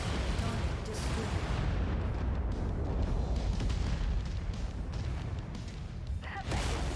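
A mech blowing apart in MechWarrior 5, a dense, continuous roar of explosive rumble and crackling booms that lasts for several seconds at close range.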